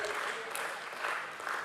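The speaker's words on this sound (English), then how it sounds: "Energetic round of applause." An audience at a stock exchange listing ceremony for Metropolis Healthcare Limited gives a dense, steady round of applause, loud and continuous with no break.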